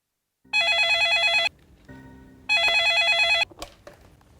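Electronic telephone bell ringing indoors, two loud trilling rings about a second each separated by a brief pause, followed by a faint clatter.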